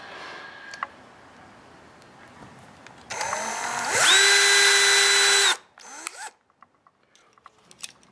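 A power drill spins a short piece of push rod as a makeshift bit to bore holes in a model control horn cut from an ID card. One loud whirring burst rises in pitch for a few seconds, then stops, followed by faint clicks and handling.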